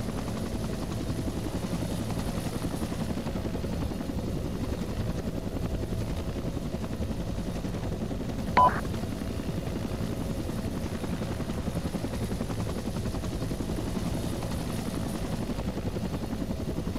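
A Cobra attack helicopter in the video game ArmA 2 drones steadily throughout, a continuous low rotor and engine roar at even loudness, with one brief sharp click near the middle.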